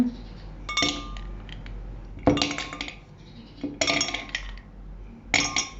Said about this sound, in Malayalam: കോൾഡ് ഇട്ടിട്ട് ഞാനിവിടെ കുറച്ച് ഐസ് ക്യൂബ്സ് ഇടുവാണ്.